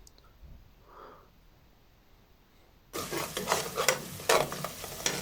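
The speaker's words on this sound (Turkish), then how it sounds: "Karıştıralım." After a quiet start with faint breathing, a spatula scrapes and stirs dried zucchini and peppers in a sizzling pan. The stirring comes as loud, rhythmic strokes over a continuous frying crackle.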